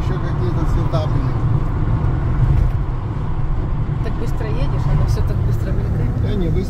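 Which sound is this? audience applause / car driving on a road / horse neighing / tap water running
car driving on a road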